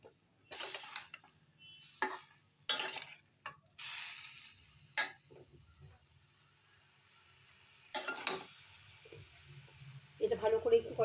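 Dalia khichuri being stirred and sautéed in a pan, with intermittent scraping and clinking strokes of a spoon against metal separated by quiet gaps, a faint sizzle underneath and a voice talking at times.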